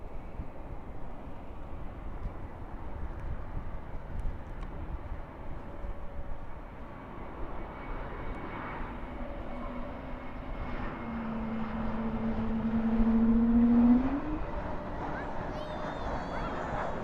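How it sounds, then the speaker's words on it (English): An American Airlines Airbus A321 lands at Dallas/Fort Worth airport at night with spoilers up and reversers deployed. Its distant engine roar builds to a louder, rising whine, then eases off, with talk over the top. "And spoilers up, reversers out on that A321."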